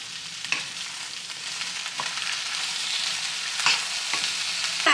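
Food being stirred in a hot pan, a steady close sizzle and fry with a few soft scrapes of the utensil against the pan, no talk.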